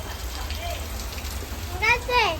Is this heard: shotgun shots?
no